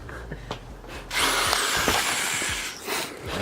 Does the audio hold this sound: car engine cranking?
no